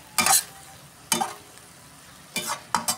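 Beef steak with calamansi and pepper frying in a pan is stirred in a few short, close scraping bursts over a soft, steady sizzle.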